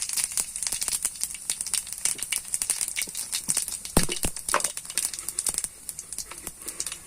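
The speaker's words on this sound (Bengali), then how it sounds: "তেলটা গরম হয়ে গেছে, এবার আমরা জিরে দিয়ে দিলাম।" Cumin seeds dropped into hot oil crackle and pop in quick, irregular bursts over a thin hiss, close and moderately quiet, with no talking.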